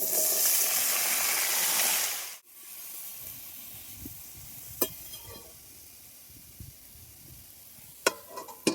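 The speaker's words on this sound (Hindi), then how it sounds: "फोरन हमारा सही से हो चुका है, अब इसमें कटा हुआ आलू हम डाल देंगे" Cut potatoes go into hot oil with a panch phoron tempering, giving a loud, close sizzle for about two seconds that cuts off abruptly, followed by quiet crackle and a few faint clinks.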